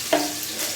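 Bay leaf and whole cumin hitting hot oil in a kadai, a short sharp crackle followed by a continuous soft sizzle, close and alone.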